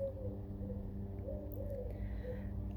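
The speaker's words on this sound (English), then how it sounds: "Another kind of pigeon making its noises to its lady." Soft, low cooing from a pigeon repeats several times under a steady hum of outdoor background noise.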